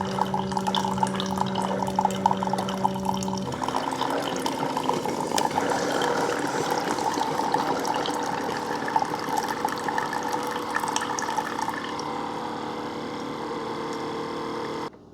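Single serve coffee maker brewing an 8-ounce cup: a pump hum at first, then steady gurgling and trickling liquid pouring into the cup, continuous and fairly loud, softening near the end.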